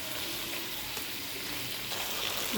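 A goat head curry is stirred and fried in a pan, making a steady, moderate sizzling hiss heard close by, with soft stirring movement and a slight rise at the end.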